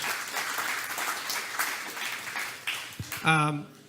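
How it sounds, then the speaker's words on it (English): A dinner crowd at a political event applauds in a sustained wash of clapping that fades as a voice begins speaking near the end. "So give yourselves a round of applause for saving Senator Cruz."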